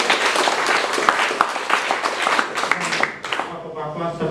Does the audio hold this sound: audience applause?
yes